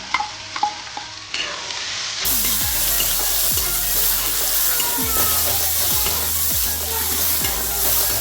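Chopped onion roasting with chana dal and urad dal in a pan, a steady sizzle that swells after a quiet start, broken by repeated scraping stirs of a spoon against the pan bottom.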